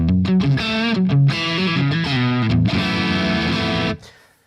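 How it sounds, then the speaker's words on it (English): Low-gain electric guitar through an amp's vintage channel with reverb and delay, a melodic run of sustained notes and chords that rings out and fades into a decaying tail. "the vintage channel, like, just like that with a bit of reverb and delay, like, it's pretty good already"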